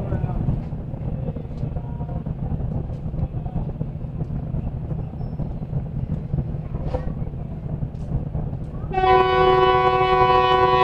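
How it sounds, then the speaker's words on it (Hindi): 39 Up Jaffar Express pulling out of Gujar Khan station after a two-minute stop: a steady low rumble of the moving train, then a loud sustained horn blast that holds through the last couple of seconds. "2 मिनट रुकने के बाद 39 अप जाफर एक्सप्रेस डिपार्ट कर रही है गोजर खान"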